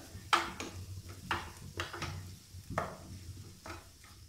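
Green chillies and spices sautéed in a pan over a medium flame for achari paneer, heard as a quiet sizzle with half a dozen sharp scrapes and stirs of a utensil against the pan at irregular intervals.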